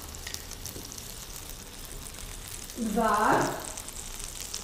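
Grated garlic dropped into melted butter in a pan gives a short burst of sizzling and frying that swells for about a second, then fades, while someone speaks briefly before it.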